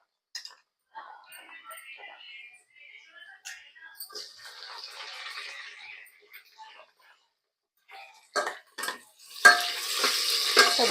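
Tomato and roasted green chillies are stirred and fried in a pan. A spoon scrapes and clinks softly at first, and then a louder, continuous sizzle of frying takes over near the end.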